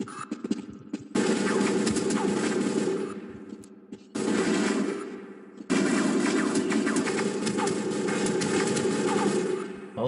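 Rapid automatic gunfire from the Half-Life video game, including shotgun and bigger weapons, roaring in long sustained loud bursts separated by brief pauses, with no talking over it.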